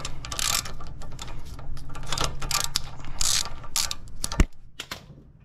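A ratchet snugs up the lower ball joint nuts on a Lexus GS300, a close, steady run of rapid clicking bursts with a couple of sharp knocks near the end.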